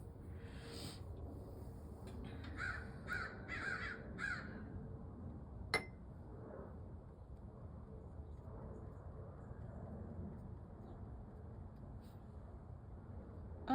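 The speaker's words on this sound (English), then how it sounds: "A lot of crows today. We have quite the big murder of crows around here." A large flock of crows caws repeatedly in the distance, a cluster of harsh calls over steady outdoor background hum that then fades to faint ambience; no speech.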